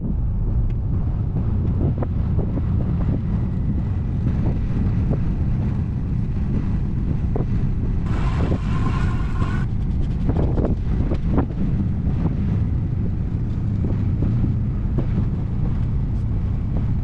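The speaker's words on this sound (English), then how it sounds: "The wind started picking up and this thing was about to fall off" Strong wind blowing steadily in open desert country, a loud continuous rumble buffeting the microphone with no voices.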